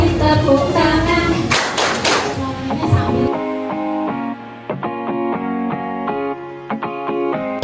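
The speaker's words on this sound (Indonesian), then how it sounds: "Kalau kau suka hati tepuk tangan" Children clap along to a sung Indonesian action song during a school outing at a health clinic, rhythmic hand claps mixed with singing voices and music, the claps sharp and regular over the melody.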